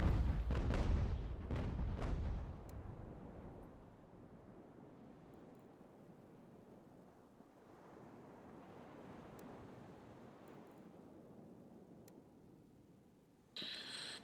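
Battlefield gunfire and artillery from the game Ultimate General: American Revolution, a cluster of booming cannon blasts at the start, then a softer rolling rumble of distant volleys and scattered shots before a sudden loud burst at the end.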